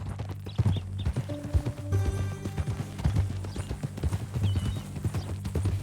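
Horse hooves clip-clopping steadily at a walking pace in the video game Red Dead Redemption 2, close and rhythmic under a low ambient bed, with faint tonal game sounds mixed in.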